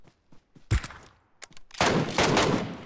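Gunfire in PUBG Mobile, with two sharp shots followed by a long, dense burst of rapid automatic fire lasting over a second, loud and close, with no talk over it.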